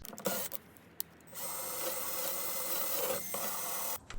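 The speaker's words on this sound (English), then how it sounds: "Drilled tons of holes in the bottom of the container to ensure sufficient drainage." Power drill boring drainage holes through the bottom of a container, a steady close whirring grind lasting a few seconds, bracketed by short clicks and handling noises, with no talking.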